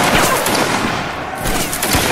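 A volley of musket fire rings out in a Roblox Waterloo battle, a dense, loud fusillade of overlapping shots crackling together in a short burst with no talking.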